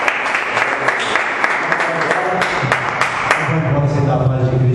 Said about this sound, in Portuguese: E que as palmas vão ver a Deus.